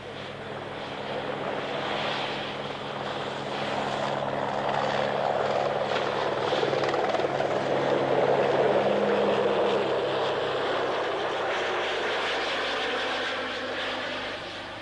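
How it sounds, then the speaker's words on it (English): A helicopter hovering over a 1989 Aloha Classic windsurfing race off Hawaii, a loud, continuous rotor and engine roar that swells slightly in the middle and holds steady throughout. "Someone later suggested that the helicopter had actually blown Nash over."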